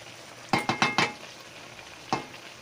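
Green papaya with red chili stir-fried in a pan: four quick scraping stirs in a row, then a pause and one more, each a sharp sizzling rasp over a faint background.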